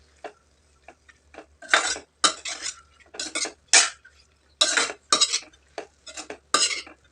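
A spoon scrapes and clatters through a drumstick leaf and dal stir-fry in a pan, in a run of short, separate strokes with quiet gaps between them.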